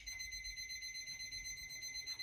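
A liquid level indicator hanging on a mug gives steady high-pitched beeps while liquid is poured in, a slower warning pattern that repeats evenly and close by with no talking.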